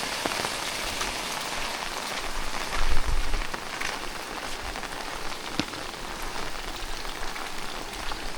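Morning monsoon rain falls steadily on a Konkan village in Ratnagiri, a dense, even hiss of drops on leaves and surfaces close around, with a brief heavier patter midway and no voices.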